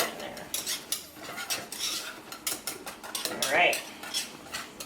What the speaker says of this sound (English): Just stir it in there.